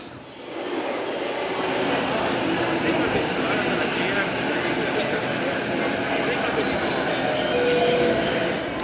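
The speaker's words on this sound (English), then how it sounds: "Here is a Keihin Tohoku Line train coming in towards Shinagawa." A Keihin Tohoku Line commuter train rumbles steadily into a station towards Shinagawa with a broad, continuous rolling roar and faint squeals, building gradually then holding level.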